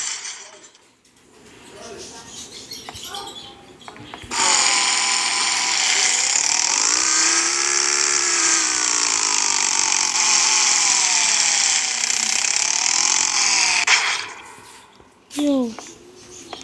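A stolen motorcycle engine in the mobile game Sakura School Simulator drones steadily at full volume for about ten seconds with a slight pitch wobble. A voice speaks before and after the engine.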